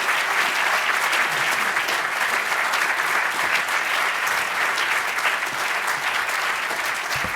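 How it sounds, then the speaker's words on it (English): A conference audience at Harvard breaks into sustained, dense applause, loud and even throughout with no pause or speech. "I think we should give all of you another extra applause."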